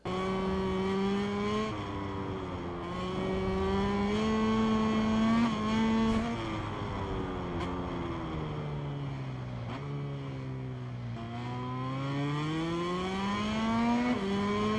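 A Ducati racing motorcycle in MotoGP 23 screams around a lap, its engine whine rising and falling through gear shifts and corners, loud and continuous with no talk.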